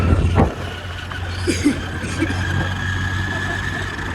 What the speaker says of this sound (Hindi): होंडा की जितनी स्कूटी है उनके सभी के एक जैसे इंजन साउंड है ना